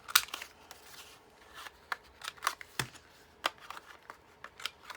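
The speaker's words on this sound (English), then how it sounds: "if you don't have a quarter rounder, you know, you can do it with scissors." Scissors snip paper to round off card corners in a crafting session, a series of short, faint crisp cuts and rustles in an irregular rhythm, heard alone and close up.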